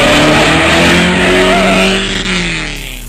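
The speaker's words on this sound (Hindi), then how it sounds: "राहुल और स्पीड में चलाकर साइड से उसकी गाड़ी को टक्कर मारता रहता है।" A speeding car roars loudly at close range, engine tone rising and shifting as it rams another car from the side, with a steady heavy drone throughout and no voices.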